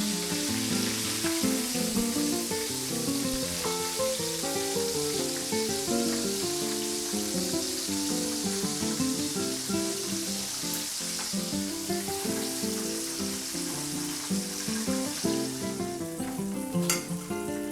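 Homemade KFC-style chicken fries in hot oil at home, a constant crackling sizzle with bubbling pops that runs loud and unbroken for the whole stretch, with no voices over it.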